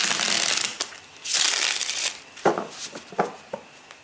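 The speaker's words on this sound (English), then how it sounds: "We'll shuffle a couple more times." Crisp riffling bursts of tarot cards being shuffled several times, close by, with short pauses between quick papery flutters.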